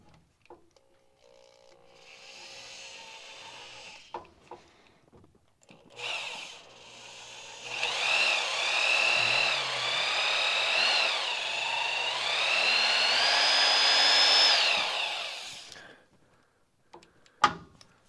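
A power drill runs a tapered easy-out bit to bore a pilot hole in a 1959 Ford F100 transmission, whirring in short bursts and then in one long, loud, steady grind at close range that stops abruptly.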